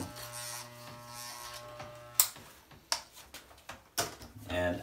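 Electric hair clippers buzz steadily for a short haircut, working from a one-inch length down toward a fade at the 1/8 guard; the hum holds close and continuous with a few brief clicks and knocks partway through.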